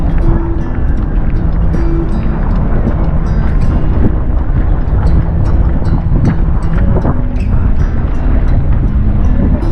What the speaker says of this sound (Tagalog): Grabe yung alon dito sa ano, dito sa lake.